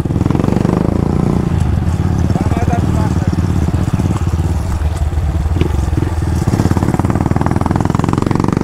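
A Start 160 motorcycle fitted with a GRS curved exhaust runs loud and close for the whole stretch, its dense engine rumble and revving steady throughout, with a voice faintly talking over it.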